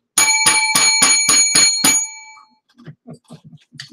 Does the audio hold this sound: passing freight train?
no